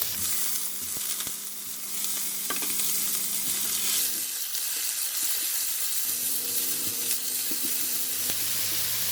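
Carrot and shiitake mushroom stir-frying in a pan with oyster sauce, making a continuous hissing sizzle broken by sharp clacks and scrapes of the utensil that ease off partway through.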